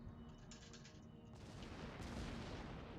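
Naval gunfire in World of Warships, heard as a dense, continuous rumble of booming shots and distant explosions throughout, moderately loud with no talk.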